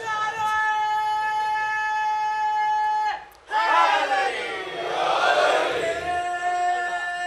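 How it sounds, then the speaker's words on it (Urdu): A large crowd of ordinary people at a religious gathering in Gujrat, Punjab, Pakistan chants slogans loudly together, a sustained mass of voices with a brief break near the middle before the chanting surges again. "یہاں اب یہ سادہ سادہ لوگ نعرے لگا رہے ہیں"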